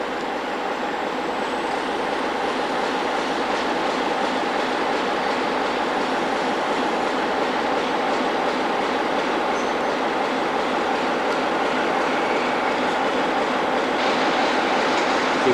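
A passenger train usually hauled by a Class 37 locomotive rumbles loudly and continuously past a marshalling yard and station, with wheel clatter and steady rail noise throughout.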